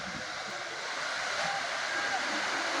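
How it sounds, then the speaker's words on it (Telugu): The Tarabu waterfall plunges from a great height into a deep drop, producing a steady, unbroken rushing roar of falling water heard from a distance and filling the scene evenly throughout. "ఇట్లా ఉంటుంది అన్నమాట వాటర్ ఫాల్స్ అనేది"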